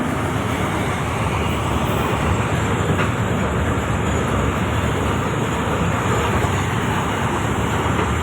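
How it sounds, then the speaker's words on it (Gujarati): A freight train passes nearby as one loud, unbroken roar of rumbling wheels and wagons that holds steady for the whole stretch, with no voices. "રેલગાડી આવી ગઈ છે"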